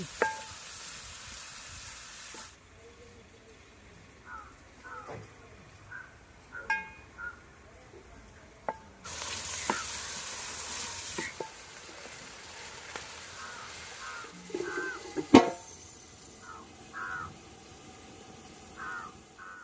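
Chopped onions and green chillies fry in a pan, a steady sizzle with broadband hiss bursts and occasional clinks of a utensil against the pan, close and moderately loud with no talk.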